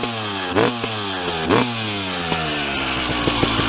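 A restored 1996 Honda RM250 two-stroke motorcycle fitted with a muffler revs close by, its buzzing engine blipping upward in quick repeated throttle bursts between steady idling stretches.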